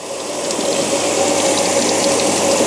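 Tap water pours steadily over a Tetra EX Plus external aquarium filter basket being rinsed, a close, even rushing gush with no talk.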